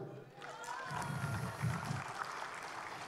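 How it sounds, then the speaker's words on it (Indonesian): Moderate crowd applause at a food and beverage business conference, a soft continuous patter of clapping heard at some distance with murmuring voices underneath. "Kalau angkanya sama tolong kasih tepuk tangan ya."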